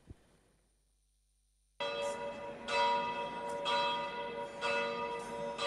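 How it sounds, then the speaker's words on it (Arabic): Church bells in Egypt ringing for Christmas, loud repeated strikes with long ringing overtones starting after a near-silent opening. "مع دقات أجراس كنائس المحروسة معلنة الاحتفال مطلع كل عام بذكرى ميلاد نبي الله عيسى"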